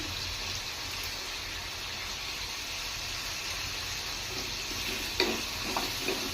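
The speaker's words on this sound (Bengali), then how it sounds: "দিয়ে আমি নাড়াচাড়া করে ভালো করে এটা ভেজে নেব।" Broccoli and potatoes with turmeric frying in a pan give a steady, close, hissing sizzle throughout, with a few light clinks of stirring near the end.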